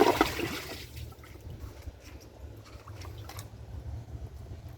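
An American Standard Cadet 3 toilet flushes a washcloth, a brief rushing burst of water at the start giving way to softer trickling and refilling, close by with no talking.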